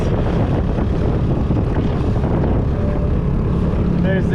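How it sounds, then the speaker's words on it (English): A motorized dinghy pushes through strong currents near Goods Island in the Torres Strait, with loud, steady engine drone, slapping water and heavy wind buffeting the microphone throughout. "Bit of a rough dinghy ride coming into Goods Island here with some pretty strong currents."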